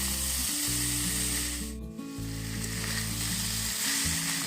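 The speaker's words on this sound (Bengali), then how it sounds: "আমি প্রায় 5 থেকে 6 মিনিটের মতো এভাবে তরকারিটি কষিয়ে নিলাম" Kochur loti curry with jackfruit seeds and dried fish sizzles and sputters steadily in a pan while being sautéed, a dense close crackle with soft stirring scrapes and a low hum running underneath.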